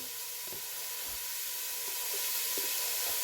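Oil sizzles steadily with celery and onion frying in a pan for chicken stew, a continuous close crackling hiss with occasional soft taps.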